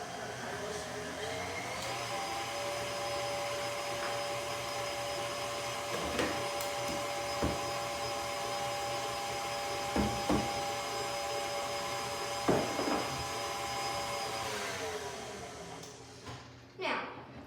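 An electric mixer whirs steadily for several seconds while mixing sugar and yeast for dinner roll dough, with occasional clinks and bumps against the bowl before it winds down.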